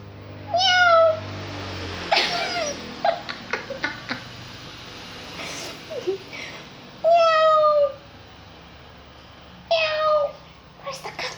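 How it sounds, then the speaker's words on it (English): A house cat meows several times in short, clear calls spaced a few seconds apart, close by, with soft indoor knocks and handling sounds between them and a voice heard briefly. "Where's the cat? Meow."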